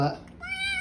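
A stray cat being fed at a house gives a single short, faint meow that follows a brief muffled sound.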